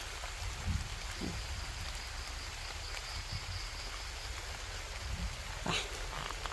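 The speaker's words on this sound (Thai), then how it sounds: "ฝนก็ตกเจ้าจะกินอะไรอย่างเจ้า" Steady rain falls in a continuous hiss, with occasional louder drops tapping nearby; no voices.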